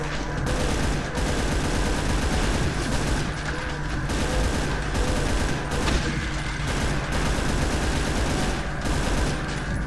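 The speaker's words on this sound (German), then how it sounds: "Ja, es kriegt jeder Paar von meinen Kugeln ab." Gunfire in the video game Brutal Doom, played in GZDoom on a life support facility level: a dense, continuous, loud barrage of rapid shots and explosions with no pause.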